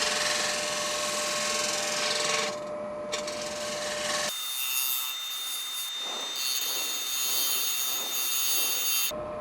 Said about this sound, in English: Using it like a shear cut, like you would with a gouge.